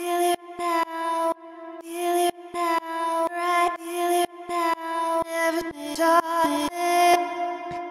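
Chopped vocal samples from sample packs in an FL Studio deep house track play as short, pitched stabs in a choppy rhythmic pattern with abrupt cuts between hits, loud and clear without talk.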